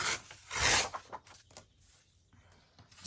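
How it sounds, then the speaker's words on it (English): Paper torn off by hand while making hinged journal pages: a short, rasping rip peaks near the start, followed by quieter rustling and scraping, with no speech. "I'll just tear that bit off as well because I don't like it"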